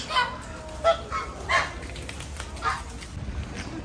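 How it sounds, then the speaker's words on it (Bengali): Geese honk and ducks call in short bursts a few times over a noisy outdoor background at a sheep farm in Pattaya, Thailand, with faint voices nearby. "হাঁস রাজহাঁস"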